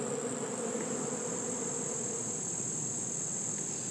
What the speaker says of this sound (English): I don't know what these bees are doing.